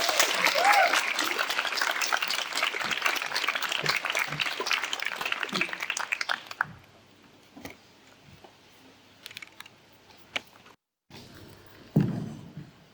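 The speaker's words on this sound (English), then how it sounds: "another ripple of applause for Anna Marks" A ripple of applause from an audience at an induction event, dense broadband clapping for about six seconds that then thins out into scattered ticks, knocks and faint room noise, with a brief voice near the start.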